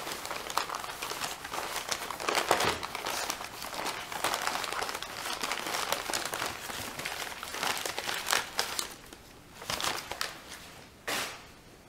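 Paper crinkles and crumples steadily as items are unwrapped from their wrapping, a close, continuous rustle with a few sharper crackles and brief pauses near the end.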